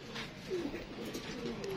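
Pigeons coo softly in a brief, low murmur over a faint background hum, close by.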